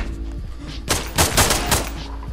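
Gunfire in the shooter Level Zero Extraction: a quiet stretch, then a rapid, loud burst of several close shots in quick succession, with no talking.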